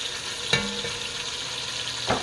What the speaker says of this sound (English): brown all the short ribs up